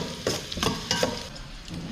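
Onion and garlic being sautéed in a pan for taro adobo, with a spoon stirring and scraping through a soft, steady sizzle and a few sharp clacks, close and fairly quiet.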